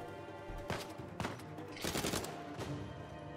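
Enemies in Uncharted 4 fire guns in a few sharp bursts, moderately distant and fairly quiet, with irregular cracks and a louder cluster of shots near the end.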